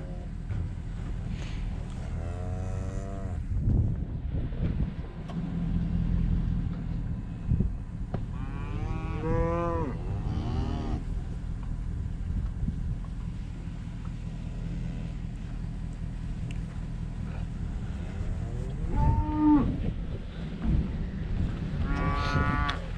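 Cattle on a farm moo several times, with long, drawn-out calls near the start, the middle and the end over a constant low engine-like rumble, with no talk.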